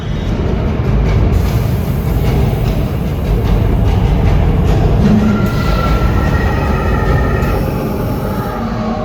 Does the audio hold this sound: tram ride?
yes